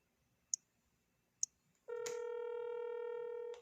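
Two sharp clicks, then a steady telephone ring tone sounding alone for almost two seconds on a call that nobody picks up.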